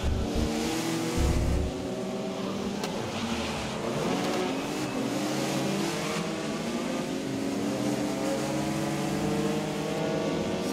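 Racing car engine revving in a video game during rain, a steady loud drone with shifting harmonic tones rising and falling throughout, no talk.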